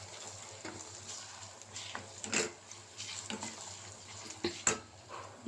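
Tomatoes with salt and turmeric stirred in a pan, giving a soft scraping stir with occasional utensil taps over a low sizzle, quiet and close, with no talking.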